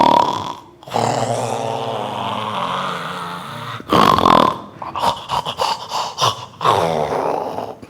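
A person imitates loud snoring with their voice, a long rasping snore followed by a break and then a series of shorter, choppy snorts and breaths, close and alone without other talk.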